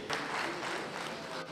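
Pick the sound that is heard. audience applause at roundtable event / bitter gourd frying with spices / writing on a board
audience applause at roundtable event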